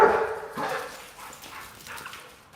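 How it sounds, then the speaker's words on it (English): A pit bull plays roughly with another dog at a dog park, giving a few short, loud bow-wow barks and yips up close at the start, then quieter scuffling and whimpers. "My pit bull's trying to eat that dog."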